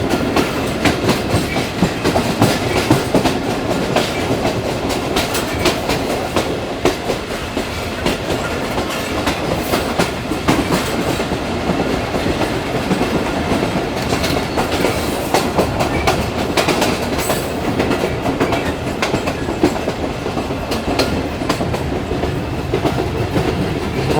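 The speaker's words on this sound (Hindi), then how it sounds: "6:50 पर ट्रेन हमारी स्किप कर रही है इस वक्त आबाद रेलवे स्टेशन को" The Jaffer Express rolls through a railway station between Jacobabad and Rohri in steady, loud rumbling clickety-clack, the carriages passing continuously close by for the whole stretch with no talk.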